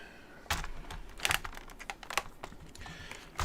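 Quiet typing on a computer keyboard, with irregular bursts of clicky keystrokes scattered across a few seconds and short pauses between them.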